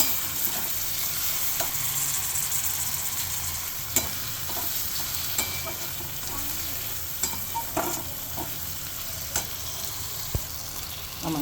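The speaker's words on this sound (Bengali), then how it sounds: "এবার এটাতে আমি দিয়ে দিব টমেটো। এইটাও ভালোভাবে কষায় নেব এটার সাথে।" Spices and tomato sautéing in hot oil, a continuous sizzle with frequent sharp clicks and scrapes of a spoon stirring the pan, close and fairly loud with no talking.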